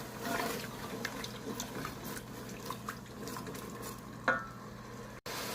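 Mashed garlic, onion and tomato being stirred in oil for aloo methi make a soft, steady sizzle with gentle scraping strokes, quiet and close, ending in a single sharper knock.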